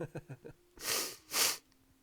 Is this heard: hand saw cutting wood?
no